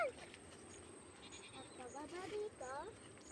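A goat bleats faintly in the distance, its quavering calls rising a few times over a low outdoor background with insects and a distant voice.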